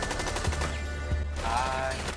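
A light machine gun in Rainbow Six Siege fires in a sustained, rapid automatic stream of close, loud shots with barely any pause across the whole stretch.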